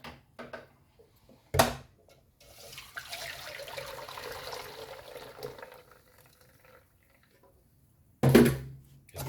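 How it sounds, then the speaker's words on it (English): Tap water runs into a pot for rinsing while cooking a one-pot Jamaican meal of coconut dumplings and saltfish, a steady gush lasting several seconds, framed by brief clanks of the pot before and after. "Let's put some more water in that and rinse out it."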